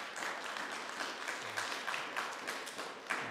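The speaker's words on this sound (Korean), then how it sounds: "우리 박수로 한번 찬양할까요?" Soft congregational clapping rises in a Korean Presbyterian church during Sunday worship in Calgary, a moderately distant, steady patter of many hands with a few sharper claps.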